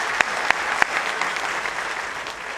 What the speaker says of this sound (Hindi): जोरदार ताली से हाँ बोलिए